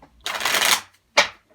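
Oracle cards are shuffled in two bursts close to the mic: a long, dense riffle of cards followed by a short, sharp flutter.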